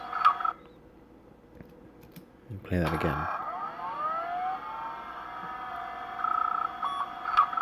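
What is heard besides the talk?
random old computer sounds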